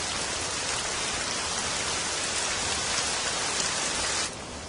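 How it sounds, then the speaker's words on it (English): Steady wet-season rain falls continuously in the Amazon rainforest, a dense, even hiss of drops on foliage and surfaces that holds at the same level throughout and eases slightly in the final moment. "By morning, rain is falling steadily."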